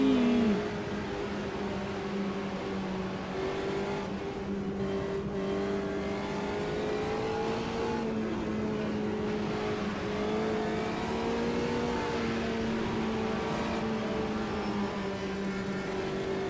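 Air-cooled VW Fusca (Beetle) engine in Automobilista 2: a close, continuous buzzing drone held at high revs, pitch wavering slightly up and down with throttle, loud and steady throughout.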